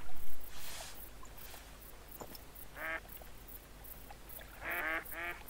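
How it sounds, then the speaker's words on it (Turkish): A small flock of ducks in the hunting game theHunter: Call of the Wild gives a few short bursts of quacking calls at moderate distance, separated by quiet ambient gaps, with no talking. "İşte ilk ördek sürümüz."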